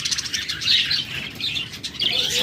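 Rainbow budgerigars chirp and twitter in quick, high bursts close by, with a brief flutter of movement among them.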